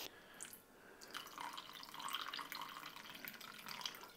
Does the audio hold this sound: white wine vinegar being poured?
yes